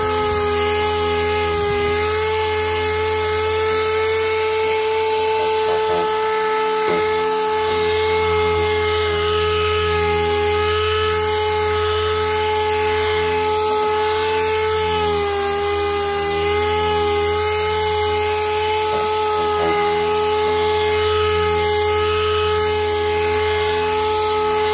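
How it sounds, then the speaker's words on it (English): A car headlight is wet-sanded by hand with sandpaper, giving a steady continuous loud scrubbing hiss with a constant mechanical whine and hum underneath, without pause. "put a little bit on your sandpaper. Then what you're gonna do is just start sanding."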